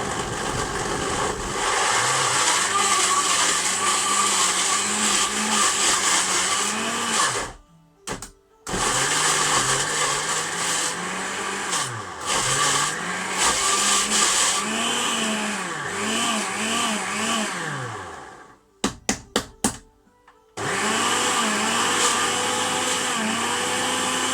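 A countertop blender whirs loudly while blending a chicken vindaloo marinade, its motor pitch rising and falling as the thick mix catches and frees up. It cuts out twice for brief pauses before restarting at full speed.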